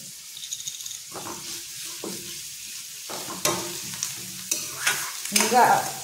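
Cumin and mustard seeds crackle and sizzle in a hot steel pan with pink-tinged onion, a soft continuous fry punctuated by sharper pops and stirring scrapes that grow louder toward the end.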